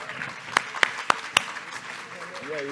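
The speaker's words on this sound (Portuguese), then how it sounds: "palmas para a Luísa" At a book fair stage event, a few sharp, separate hand claps ring out over a murmuring crowd as an author is welcomed, followed by a voice starting to speak.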